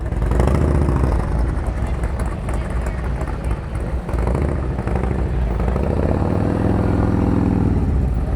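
A motorcycle works through slow-speed U-turn practice in an open lot, its engine droning loudly and steadily with throttle swells and heavy wind buffeting, while a voice talks over the top.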